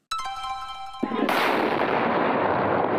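A single heavy artillery blast booms out beside a shopping mall in Novosibirsk, followed by a long, loud rumbling roar that keeps rolling on without fading.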